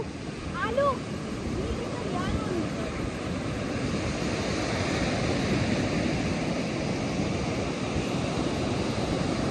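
Steady wash of sea waves on the shore, constant and moderately loud, with a brief voice early on.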